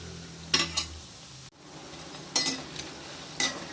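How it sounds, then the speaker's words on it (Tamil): Banana stem pakoda frying slowly in oil over a low flame, a soft, quiet sizzle broken by a few short stirring and utensil scrapes, close up and alone without talk. "அடுப்பை கொஞ்சம் குறைச்சி வச்சுருக்கேன், அதனால கொஞ்சம் அமைதியாக மெதுவாக வெந்துக்கிட்டு இருக்கு."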